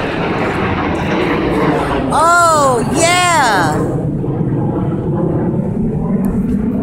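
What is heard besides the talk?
two military jets flying over in formation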